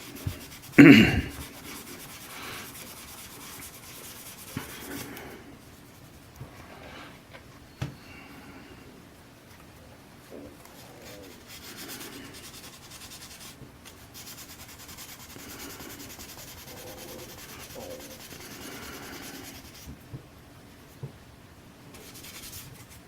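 Soft, steady rubbing of sandpaper on a surface continues for a long stretch, with a sharper scrape near the start and occasional light knocks.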